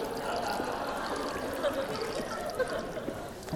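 Water streams steadily out of holes in a hydrostatic pressure demonstration container during a physics lecture, giving a continuous splashing rush with no talking.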